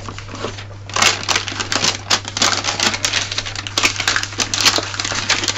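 Gift wrapping paper being folded around a present gives close, loud crinkling and crisp rustling in irregular bursts, over a low steady hum with no speech.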